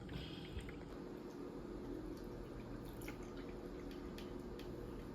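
Pet water fountain running, a low continuous trickle of circulating water with occasional small drips and splashes, quiet and steady throughout with no speech.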